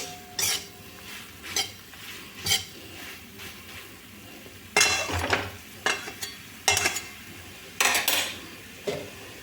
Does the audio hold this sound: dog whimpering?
no